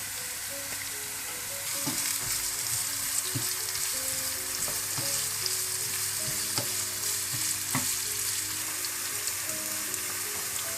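Thin, long-cut carrots and vegetables for vegetarian Hakka noodles fry in a pan with a steady loud sizzle. Scattered clicks and scrapes of stirring run throughout, and no one speaks.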